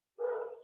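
A single sharp dog bark rings out close by in a home, starting abruptly after silence and trailing off quickly.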